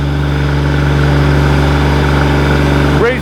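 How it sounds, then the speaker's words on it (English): A Digger King T40 compact loader's small engine idles steadily with a constant low drone, then briefly rises in pitch near the end as it revs up. "Bit more revs."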